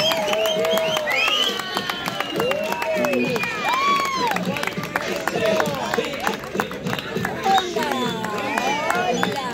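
Parade crowd at a gay pride festival applauding and cheering continuously, dense clapping mixed with whoops and shouted voices, with a loudspeaker voice and scattered talk cutting through the din.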